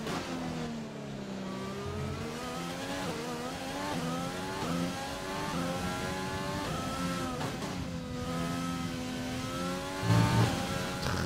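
An F1 2020 race car engine in a video game, revving high and shifting through gears with repeated rising whines, loud and continuous, with a short thump near the end.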